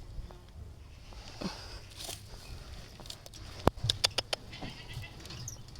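Goats on a farm bleating, with a few short, fairly faint bleats and small rustles over a quiet background, then a brief cluster of sharp clicks or crackles near the end.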